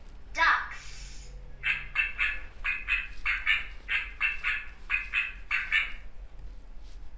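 Ducks quacking in a rapid series of nasal calls, close and fairly loud, several in a row after a brief opening call.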